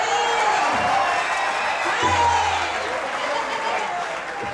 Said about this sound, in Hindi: आइए, क्या बात है, जोरदार तालियां